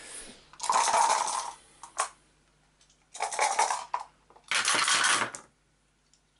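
Five dice clatter onto a table during an Eldritch Horror board game, in three separate close, bright rattling bursts with brief quiet gaps between them.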